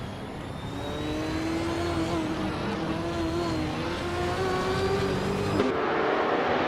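Vintage race cars, a 1970 Porsche 917 among them, accelerate off the line at the Aintree Vintage track in a racing game, a loud continuous engine roar whose pitch climbs with each gear before cutting off near the end.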